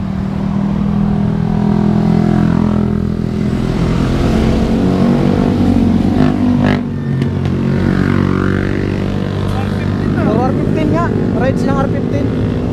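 A Yamaha R15 motorcycle engine drones and revs as the bike passes, loud and steady with rising and falling pitch, while several people talk and shout over it.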